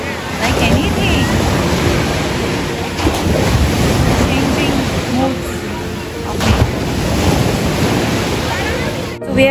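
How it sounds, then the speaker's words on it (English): Waves surge and gush in a sea cave at Krabi, a loud, continuous wash of water with rolling swells and heavy wind buffeting the microphone, close by and sustained throughout. "the water has started gushing like anything"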